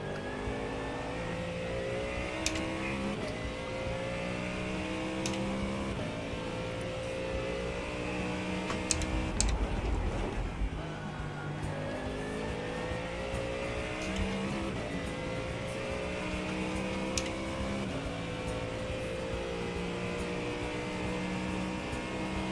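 Race car in iRacing at Bathurst during a 12-hour endurance event, engine revving and shifting through gears with rising and falling pitch, tire squeal and a brief louder burst near the middle, steady and fairly close.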